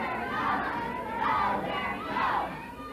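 A wrestling arena crowd in Alabama or Tennessee roars for Terry, with a fairly distant, muffled cheer that swells in three rising waves over a constant hubbub.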